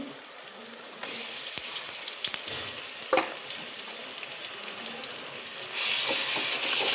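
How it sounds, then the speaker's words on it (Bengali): Spice ingredients drop into hot oil in a wok and a sizzle bursts up, broken by sharp clinks and scrapes, then swells louder near the end. "কড়াইয়ের তেল গরম হয়ে গেছে। এবার আমি এই মশলার উপকরণগুলো দিয়ে দিচ্ছি।"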